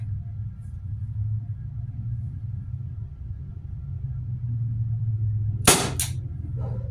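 A T4E SW MP9 m2.0 .43 caliber airsoft pistol firing 5.3 g steel balls through a chronograph, heard as one sharp close crack followed quickly by a second fainter crack, over a low steady hum.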